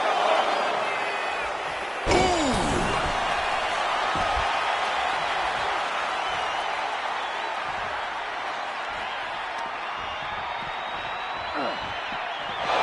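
At a WWE match between two wrestlers, a wrestler is slammed into the barricade with one heavy thud. It is nearly buried in the loud, constant roar of the arena crowd, and commentators talk throughout.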